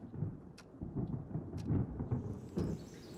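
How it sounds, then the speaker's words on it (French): Heavy rain pouring down during a thunderstorm in Chiapas, a steady close downpour with low rolling thunder rumbling through and a few sharp splashes and knocks. "Ça fait 4 jours qu'il pleut à boire debout."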